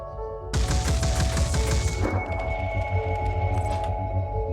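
A turret in the video game Phoenix Point opens fire with a sudden dense burst of rapid shots that runs for about a second and a half. The burst then trails off into a lingering ringing, droning game ambience.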